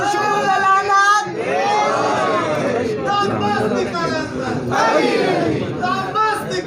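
A crowd at a religious celebration shouts slogans together in unison, loud massed voices rising and falling in several repeated waves of chanting.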